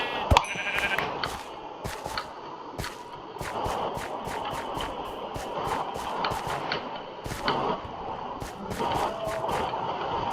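Sheep bleating in the video game Minecraft, repeated short bleats over a steady ambient background, with clicky game sounds scattered throughout.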